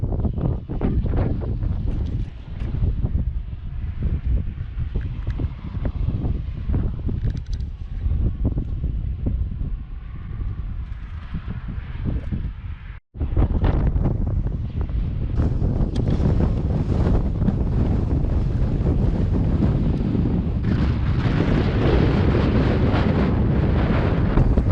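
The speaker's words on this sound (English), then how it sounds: "Wind riding into the west is an absolute bastard." Strong wind buffets the microphone while a rider travels west on a gravel road outside Dodge City, Kansas, a steady, loud roar with a brief dropout partway through, no voices.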